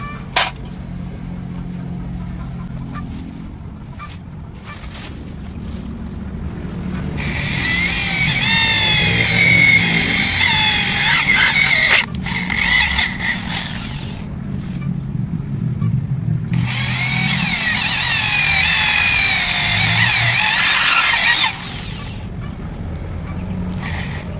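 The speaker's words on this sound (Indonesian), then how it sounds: "Kita lubangin 4 sisi aja biar imbang ya. Kita lubangi lagi." Power drill boring holes for a homemade linear guide, two long loud whining drilling bursts with a steady high tone, close by, separated by quieter handling noise in a workshop.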